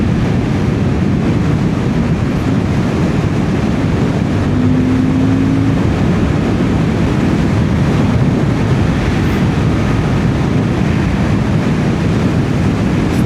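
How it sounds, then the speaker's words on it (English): Strong steady wind rush roaring across a rider on a Suzuki GSX-8R motorcycle, a continuous loud broadband buffeting with a faint engine drone beneath, no voices. "Still pretty windy."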